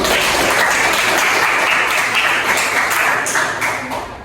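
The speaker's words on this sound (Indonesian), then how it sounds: "Tepuk tangan untuk semuanya." A school class applauding together in an Islamic studies lesson, loud dense clapping from many children that holds steady, then tapers off toward the end.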